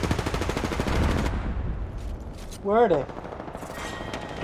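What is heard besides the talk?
incoming gunfire in Apex Legends video game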